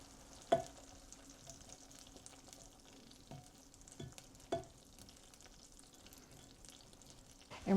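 A hot, sticky peanut brittle candy mixture with butter sizzles softly while a spoon scrapes and stirs through it in a few distinct strokes, with no talking.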